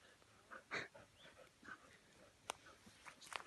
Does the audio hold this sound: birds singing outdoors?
no